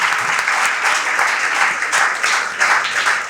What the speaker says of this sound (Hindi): एक बार खुद के लिए जबरदस्त तालियां बजाओ